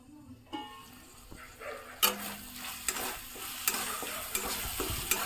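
Tomatoes and spices stir-fried in a pan for a pumpkin and bari curry, first quiet, then a sizzle that starts with a sharp scrape and continues with regular spoon scrapes against the pan.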